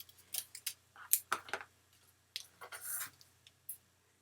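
Scissors snip through card paper to cut a banner for a greeting card kit, with several crisp, close cuts in quick irregular bursts and short quiet gaps between them.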